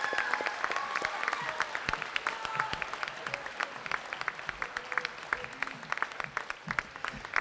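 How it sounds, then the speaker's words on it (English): Steady applause from a ceremony audience, dense and even clapping sustained throughout at moderate distance, with no voices over it. "Another round of applause."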